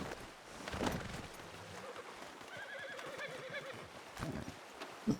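Horse in the video game Red Dead Redemption 2 neighing and whinnying, with clip-clop hooves and game ambience underneath, a rising whinny in the middle of the stretch.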